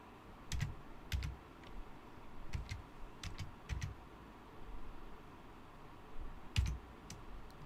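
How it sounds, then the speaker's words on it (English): Computer keyboard keys clicking in short clustered bursts, a few quick taps at a time separated by pauses, close and fairly quiet over a faint room hum, with no voices. "I'm going to type it in"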